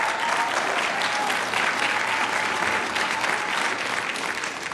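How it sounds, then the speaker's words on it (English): A student rally audience gives a dense, continuous round of applause that holds steady from start to finish, loud and close, with no talking over it. "We can applaud that."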